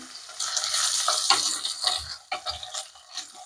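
Onions and curry leaves fry lightly in hot oil for a bottle gourd dal tempering, giving a steady close sizzle with occasional stirring scrapes and crackles throughout.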